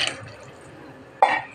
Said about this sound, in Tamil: இப்போ ஒரு 12 பாத்திரம் தண்ணி ஊற்றியாச்சு.